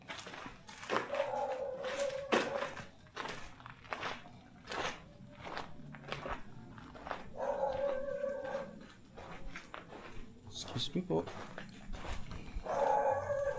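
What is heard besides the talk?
dog howling and barking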